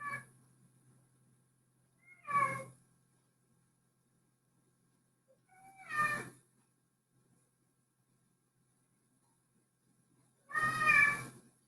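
A house cat named Nala meows three separate times with long quiet gaps between, each meow fairly close and clear in an otherwise silent room.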